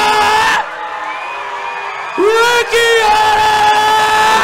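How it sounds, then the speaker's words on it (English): Fight-night crowd at an XFC 53 MMA event roaring and whooping for heavyweight Taipari Rikihana, as a loud announcer-style voice bellows his name over the surging cheers. "Crowd has gone crazy"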